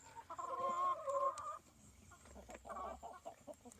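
Chickens cluck and chatter up close while pecking at surplus greens stuffed through a wire fence on a therapy farm, a lively run of overlapping clucks with no talk.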